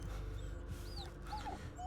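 Faint, high whimpers from a dog in the video game Blair Witch come in short squeaky whines over a steady low hum, quiet and somewhat distant.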